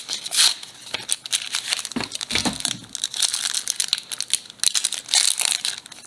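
Foil wrapper of a Pokemon card pack crinkles and tears as it is opened up close, a dense run of loud rustling and crackling bursts with short pauses, with no talking.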